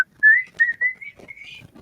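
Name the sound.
whistling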